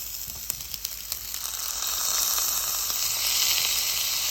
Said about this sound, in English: We're going to go ahead and add the chopped onions.